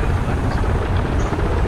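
Helicopter in the video game ArmA 3, a steady loud rotor and engine drone that fills the whole moment, close by and continuous with no pauses or voices over it.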